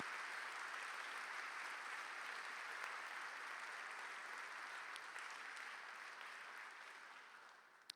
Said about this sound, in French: je voudrais que nous les applaudissions